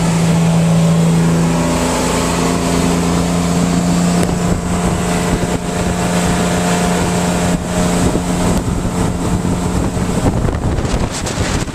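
Motorboat running at 3,500 RPM, its engine a loud steady drone with strong wind buffeting the microphone throughout, the pitch holding level and then rising slightly toward the end.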